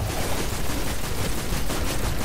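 Rapid, sustained gunfire from the video game Destiny, with shots packed into a dense, steady roar that stays loud and unbroken throughout, with no talking.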